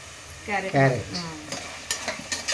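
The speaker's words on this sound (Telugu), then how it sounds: "వేగినాక దీని లోపల పాలకూర వేసేద్దాం. క్యారెట్ వేద్దాం." Spinach and carrot being stirred and fried in a pan for spinach pulao, a short burst of close sizzling with a spoon scraping and clinking against the pan.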